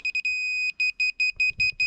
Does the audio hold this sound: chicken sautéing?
no